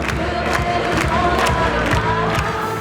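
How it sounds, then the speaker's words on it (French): A dense crowd of young people at a Sunday morning gathering in Fréjus cheers and shouts in praise of Jesus, a loud continuous roar of many voices with scattered louder whoops. "la foule est venue de tout le département pour acclamer Jésus"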